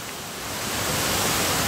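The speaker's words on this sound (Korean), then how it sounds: "유안청 폭포였습니다." Yuancheong Waterfall No. 1 at Geumwonsan forest recreation area in Geochang, South Korea, gives a dense, steady roar of falling water that swells slightly and fills the scene with no voices.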